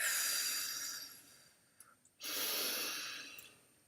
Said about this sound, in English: We breathe out the week